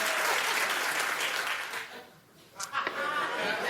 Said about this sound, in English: Clap if you do, it's okay.